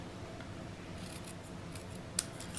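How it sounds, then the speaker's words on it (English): Scissors cut paper with a few faint, quiet snips spaced apart, one crisper snip standing out near the end over a low background hum. "So I'm going to just cut into the center, then cut up on either side."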